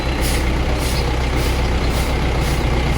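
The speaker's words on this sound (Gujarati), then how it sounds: "ટ્રેક્ટર ચાલુ થઈ ગયું છે." An old-model Mahindra tractor runs after starting, its diesel engine giving a loud, steady, close drone with a faint regular pulse and no voices.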